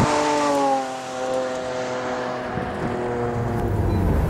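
V12 mid-engine Lamborghini Aventador sliding around a skid pad on a track, its engine droning loudly with falling and shifting pitch, heard alone without talk.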